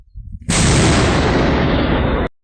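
A single powerful artillery blast erupts after a brief low rumble, its roaring wash sustained for nearly two seconds before cutting off.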